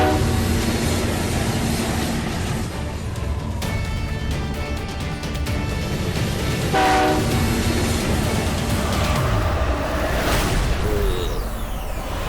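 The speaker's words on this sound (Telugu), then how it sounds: "నువ్వు ట్రైన్ చూడగానే ట్రైన్ ఫాలో అవ్వు" An animated cartoon train rushes past with a loud, steady rumble throughout, while horn-like tones sound over the rattle in the middle and later part.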